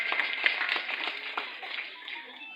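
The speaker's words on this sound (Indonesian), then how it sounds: "Tepuk tangan." An audience claps at a speech event, a dense, steady patter of many hands at moderate distance that thins slightly toward the end, with no voice over it.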